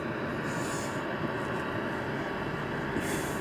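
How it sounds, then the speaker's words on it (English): Dust extractor running in a woodworking shop, a steady broadband roar with a constant hum that fills the space, moderately loud and unbroken, with no voices over it. "dust extractor and everything just going off all the time"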